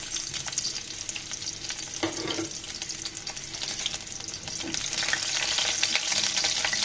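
Garlic frying in hot oil as the base for red amaranth greens, a steady close sizzle with stirring scrapes running continuously throughout.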